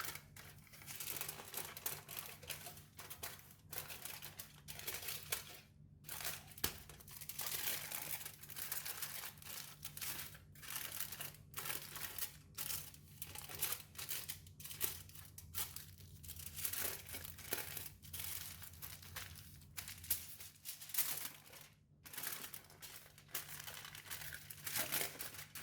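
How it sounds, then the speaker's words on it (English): Aluminum foil crinkled and crumpled while wrapping red bean paste, close and fairly quiet, with a steady run of crackling rustles and brief pauses over about twenty-five seconds. "Next, wrap it with aluminum foil for extra protection."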